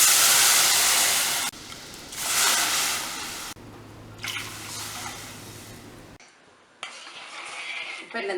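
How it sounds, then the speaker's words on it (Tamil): Water pours and splashes into a hot pan, hissing and sizzling in several bursts with short pauses between them, close and fairly loud. "இதில் நம்ம ஒரு 3 கப்பு தண்ணி விட்டுக்கலாம்."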